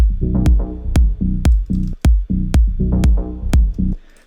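Plucky synth bass for deep progressive house, short punchy low notes repeating in a steady pattern with sharp clicky accents at regular intervals; loud and upfront, no voices.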